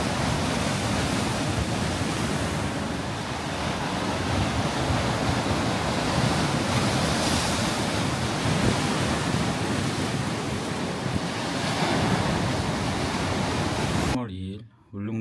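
Large ocean waves crashing near Gwaneumdo on Ulleungdo, a continuous heavy roar of surf mixed with strong wind buffeting the microphone, loud and steady before cutting off abruptly at the end.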